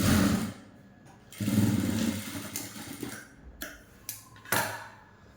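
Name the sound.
sewing machine stitching a blouse neckline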